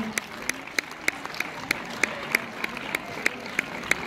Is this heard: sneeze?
no